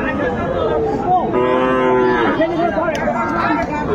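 A young Sahiwal calf lets out one clear, drawn-out moo at a busy cattle market, close and loud over a steady murmur of crowd chatter and background noise.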